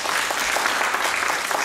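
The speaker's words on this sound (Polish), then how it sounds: "Wielkie brawa!" A theatre audience applauding at a cultural centre event, steady dense clapping from many hands, fairly loud and continuous throughout, with no voices over it.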